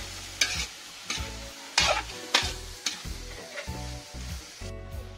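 Meat sizzling in hot oil while being stir-fried, a steady close crackle broken by rhythmic scraping stirs about twice a second, with no talking.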